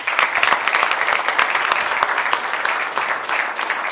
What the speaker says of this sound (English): Ladies and gentlemen, please join me in a round of applause for Karen.